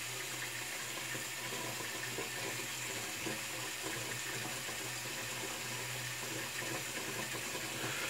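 Water runs steadily from a bathroom sink tap for a rinse during a wet shave, a continuous, close, even hiss and splash with no voices over it.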